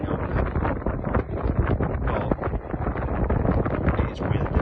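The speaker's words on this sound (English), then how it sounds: "The wind's really picked up." Strong wind buffets the microphone at a rock fishing spot on the coast, a loud, continuous gusting roar with rough rumbling bursts throughout.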